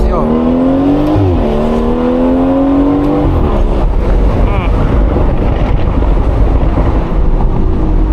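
A BMW 440i, rated 330 hp and 500 Nm, accelerates hard from the driver's seat. The engine note climbs and shifts gears, then becomes a loud, dense roar with wind noise.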